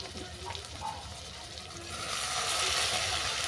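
Mushroom curry ingredients with turmeric and salt stir-fry in a pan, giving a steady broadband sizzle and hiss that swells louder partway through, close and continuous with no talking.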